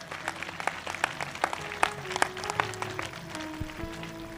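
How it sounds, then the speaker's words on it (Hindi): A congregation at a Hindi-language church service claps loudly in scattered, sharp hand claps over sustained keyboard-like music tones, with no voices heard. "जोरदार ताली बजाकर प्रभु को धन्यवाद दें।"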